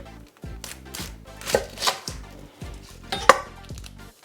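Onion and garlic being chopped finely with a knife on a cutting board for sloppy joes, a brisk run of close, crisp blade taps in quick rhythmic bursts with short pauses and a few louder knocks, no voices.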